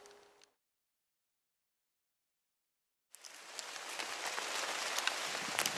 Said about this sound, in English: It's still pouring down fucking rain.